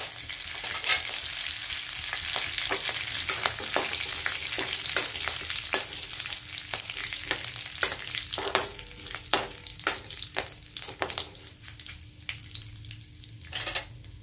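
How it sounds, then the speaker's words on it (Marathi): Oil crackles and sizzles steadily as cumin and mustard seeds pop in sharp, irregular bursts, with occasional stirring scrapes; the sizzle thins out toward the end. "आता जिरे मोहरी तडतडली, आता आपण कढीपत्ता टाकून देऊ"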